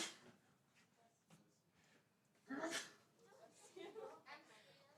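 A single loud, sharp sneeze bursts out in the middle, surrounded by low background chatter and rustling.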